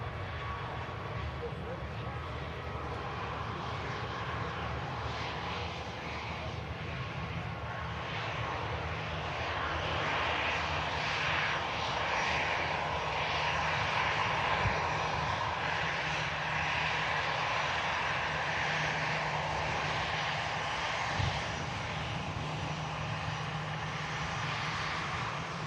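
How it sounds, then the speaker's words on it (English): An Icelandair Boeing 737 MAX jet starts its takeoff roll at an airport, a distant, faint and steady engine roar building slowly beneath a voice commentating. "Ice Max just beginning its takeoff roll there as well."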